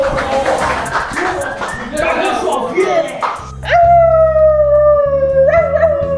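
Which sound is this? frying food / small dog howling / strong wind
small dog howling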